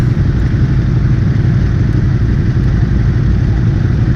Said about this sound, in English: So in this video I'm test riding the Ducati Supersport S.